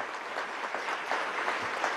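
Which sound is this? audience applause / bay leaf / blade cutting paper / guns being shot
audience applause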